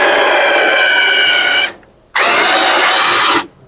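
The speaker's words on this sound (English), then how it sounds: "he start in the front drilling the hole and then he flip it on the back side" A power drill bores holes through a marquee letter in two loud, close bursts of whining motor, each about a second and a half, with a short pause between.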